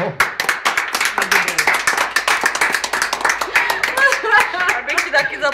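Hands clap in a quick, irregular run of sharp close claps, loud and fairly continuous, mixed with indistinct voices and chatter underneath.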